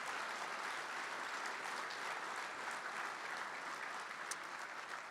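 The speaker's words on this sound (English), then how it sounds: "I'd like to also give another round of applause to the band" An awards dinner audience gives the band a steady round of applause, the dense clapping sounding even and moderately distant, running continuously without any voices.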